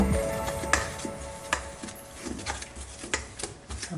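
Garlic and candlenut paste is stirred into cilok dough in a bowl, producing soft, irregular scraping and tapping of a utensil against the dish, close and fairly quiet with no talking.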